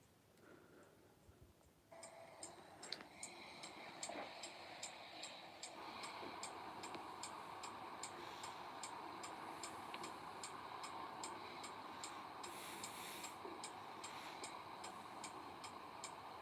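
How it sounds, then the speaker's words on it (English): Mechanical relays switching lights tick in a steady, regular rhythm over a background hiss; the clicks are faint and distant, with no talk. "You can probably hear the clicking in the background as well."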